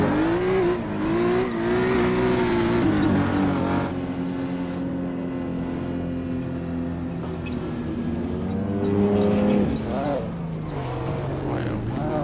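Sports cars such as an M135i, Focus, A45 and M4 cruising in a group in Assetto Corsa, engines droning and shifting pitch as they accelerate, with people chatting over the continuous engine noise.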